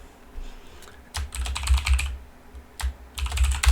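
Typing on a computer keyboard, two close bursts of quick key clicks separated by a short pause.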